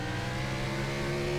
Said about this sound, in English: The pops and bangs on the overrun sound great as well